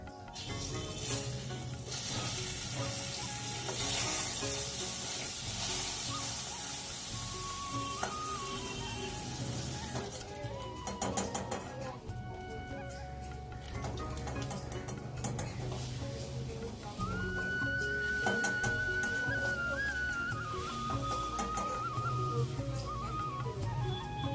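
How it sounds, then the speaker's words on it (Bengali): Pointed gourd (potol) slices sizzle steadily in a frying pan at a home kitchen, a continuous close hiss with occasional clinks of utensils against the pan and a few brief higher tones in the background. "এখানে এই যে পটল ভাজা হচ্ছে"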